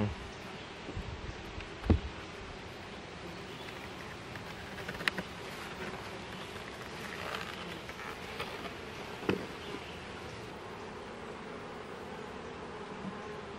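Honeybees buzz around an opened hive of a swarm colony during a spring inspection, a faint steady hum with occasional soft knocks and rustles of frames being handled.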